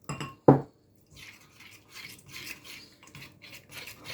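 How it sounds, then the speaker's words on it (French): Flour and water being stirred into a paste in a bowl, giving soft scraping and rubbing strokes after a sharp knock of utensil against the dish, close by with no talking. "Je viens bien mélanger."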